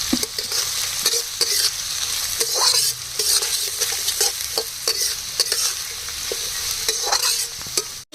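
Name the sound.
stir-frying green chillies and spring onion for fried rice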